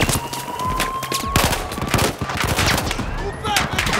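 Rapid gunfire from Battlefield 4 gameplay, dense overlapping automatic bursts and sharp shots rattling continuously and loudly, with faint background game noise throughout.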